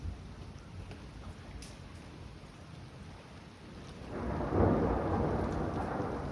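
Thunder rolls from a non-tornadic severe thunderstorm in the northeastern USA over a steady wash of rain. A louder low rumble swells in the second half and holds there. Nobody speaks.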